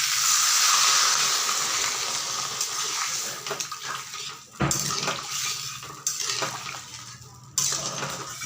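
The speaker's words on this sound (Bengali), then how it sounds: "আমি এখন জল দিয়ে দিচ্ছি।" Water poured into a pot of rui (rohu) fish curry, a steady rushing splash that fades and then gives way to a few sharp metallic clinks of utensils against the pot.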